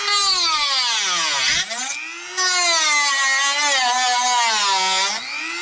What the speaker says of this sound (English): we're also going to go ahead and use a Dremel to cut a notch in.